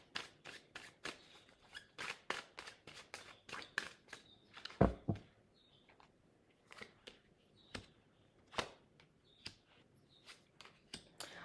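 Tarot cards are shuffled and drawn by hand in a quiet room: a run of sharp, close riffling flicks and slaps in irregular bursts, separated by short pauses.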